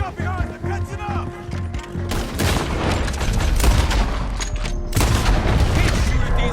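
Gunfire in the Red Dead Redemption 2 video game: dense, loud volleys and booms pile up continuously during a chase, with a rumbling low-end wash and a brief lull before another burst.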